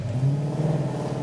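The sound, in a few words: Dodge Challenger engine revving while driving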